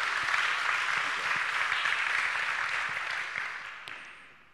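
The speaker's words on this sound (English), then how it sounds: "you may also give Tiemen and Dick, of course, the applause" An audience at an offshore wind energy workshop in the Netherlands applauds, a broad wash of many clapping hands that holds steady and then gradually fades toward the end.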